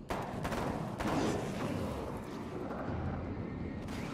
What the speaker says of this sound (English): Just instant explosions.